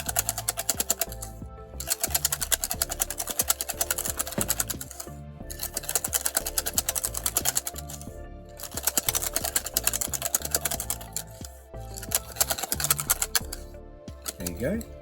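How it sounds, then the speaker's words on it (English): Rapid, rhythmic clattering of a whisk beating potato until smooth and creamy, in steady bursts with short pauses, heard at a camp cookout near the river. "get a whisk and whisk the potato till it's nice and smooth and creamy"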